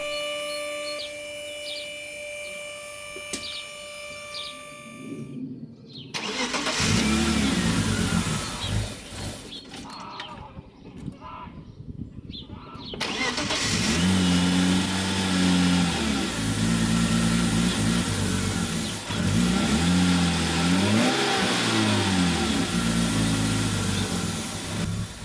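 A 1992 BMW 320i E36 engine runs unevenly with a lumpy, loping idle and occasional revs, loud and close, after a few seconds of quieter mechanical hum.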